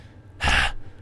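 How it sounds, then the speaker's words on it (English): A single wild, sharp gasping breath in a Tsukihime visual novel game, loud and close, bursting in abruptly and cutting off after about a third of a second against a quiet background. "My breathing gets wilder."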